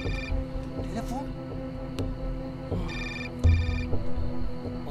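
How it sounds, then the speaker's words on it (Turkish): A telephone rings in repeated electronic bursts while several people talk over it nearby. "Dur, dur, telefon."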